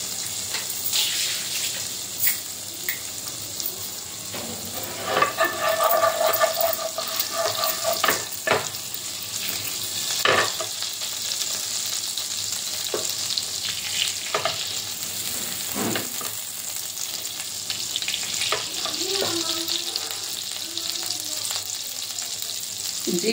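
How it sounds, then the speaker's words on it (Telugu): Cumin and shahi jeera crackle and sizzle steadily in hot oil for jeera rice, a close, continuous fry with occasional sharper pops and stirring scrapes throughout. "జీరా మంచి వేగాలండి"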